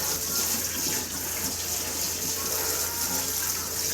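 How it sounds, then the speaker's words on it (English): Tap water runs into a kitchen sink while raw chicken wings are rinsed under it, a steady close splashing rush with slight shifts as the wings move through the stream. "Alright, so I'm rinsing my wings off."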